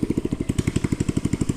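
A motorcycle engine runs close by on a path beside a rice paddy, putting out a fast, even chain of throbbing pulses at a steady idle-like rhythm, loud and alone.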